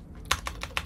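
Several crisp key presses on a computer keyboard, close up, in a quick uneven sequence of about five taps with no one speaking.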